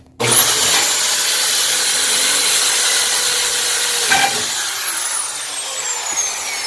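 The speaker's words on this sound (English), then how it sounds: "So we're going to drill this side, drill that side." A loud, steady power drill whines continuously up close while driving screws into a delivery door, its motor pitch shifting slightly before slowly winding down.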